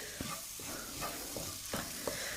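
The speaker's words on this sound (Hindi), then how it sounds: "यहाँ पे आलू को हम सारी चीज़ों के साथ अच्छे से भूनेंगे" Grated boiled potato is stir-fried in a pan with other ingredients, a soft continuous sizzle broken by several quiet scraping strokes of a spatula at an uneven pace. The sound is close, and no one speaks.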